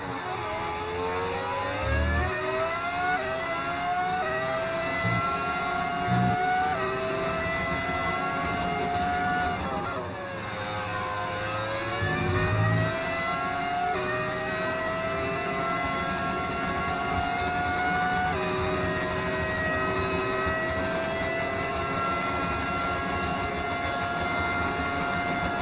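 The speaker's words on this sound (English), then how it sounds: "Car sounds different." A Formula 1 car engine in the racing game F1 25 revs and shifts, a continuous high-pitched whine rising and falling through gears, loud and sustained with no talk.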